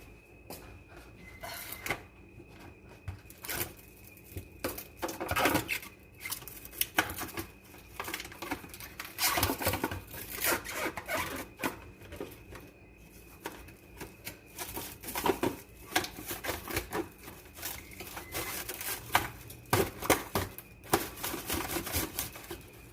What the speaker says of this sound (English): So I'm going to get a plastic wrap